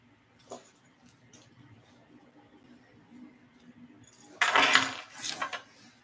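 Keys jangle in a loud, sharp metallic burst near the end, after a stretch of quiet shuffling and faint rustles.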